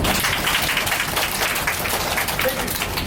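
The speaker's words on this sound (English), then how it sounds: "Can you guys clap real quick?" An audience applauds on request, a short burst of scattered clapping heard up close and filling the moment without voices.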